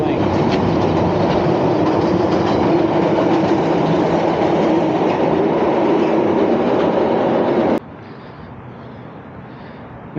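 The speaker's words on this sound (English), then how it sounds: "And there goes the Metro Link." A Metro Link commuter train passes close by in a city, a loud continuous rumble and rattle of wheels on rails that cuts off sharply near the end, leaving a quieter background.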